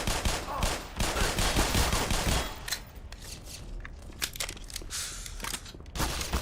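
Gunfire in Escape from Tarkov: a dense volley of rapid shots for the first few seconds, then sparser sharp cracks and short bursts at moderate loudness, ending with another brief burst, with no speech.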